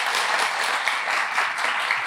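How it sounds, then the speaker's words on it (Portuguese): An audience at a Bible conference in Brazil gives a round of applause welcoming a professor, a short, full burst of steady clapping with no speech. "Uma salva de palmas."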